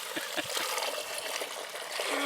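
Water pours and trickles steadily into a goat intestine being cleaned, with a splashing, gurgling quality, fairly close and continuous, with faint voices in the background.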